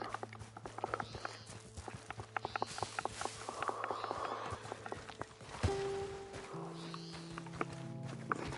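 Hooves of a Mustang horse in the Red Dead Online video game clip-clop in a steady walking rhythm, with game ambience and tonal music-like hums underneath, at moderate level and with no talk.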